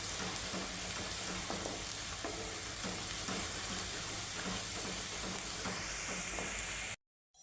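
Garlic frying with browning onion in a pan for aloo baingan, a loud, continuous close sizzle with a faint crackle running through it, cutting off abruptly at the end, with no talking.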